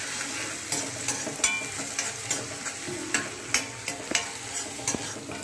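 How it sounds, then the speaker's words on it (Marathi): Chopped onion frying in hot oil for a carrot-based vegetable dish, a steady close sizzle broken by repeated scraping and clinking strokes of a spoon stirring the pan, with no voices. "कांदा जो आहे तो चांगला असा तेलामध्ये फ्राय करून घ्यायचा आहे"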